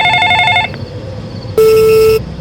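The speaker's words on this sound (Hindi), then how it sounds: "और तभी फिर से घर से फोन आता है" A phone rings at home with a repeated electronic trill, then a single long steady tone sounds loud and close, with no talk.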